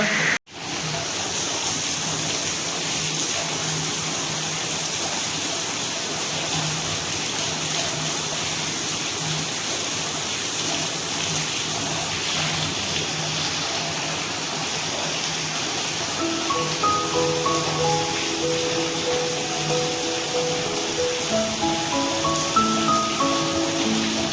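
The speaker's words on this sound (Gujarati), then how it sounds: "તો આ અમારા ગામનો ફૂલ વરસાદ છે" Dense, steady hiss of heavy village rainfall throughout, with thunder crackling and faint tonal sounds appearing toward the end.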